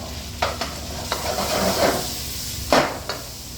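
Pork cartilage stir-fries with vegetables in a hot pan, a steady sizzle broken by several sharp scrapes and clacks of a utensil against the metal, close and loud, without speech.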